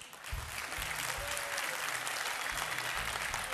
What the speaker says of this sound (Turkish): Mahidevrancılar alkışlasın.